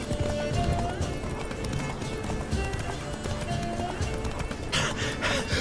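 Roach, the horse in The Witcher 3: Wild Hunt, gallops with rapid hoofbeats and gives a whinny, under busy game sound with a voice present at times.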